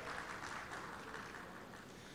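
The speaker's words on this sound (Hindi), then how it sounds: "जोरदार तालियां" Audience applause at a televised Zee Real Heroes stage event honouring guests, a steady wash of clapping heard faintly and at a distance, with no talk over it.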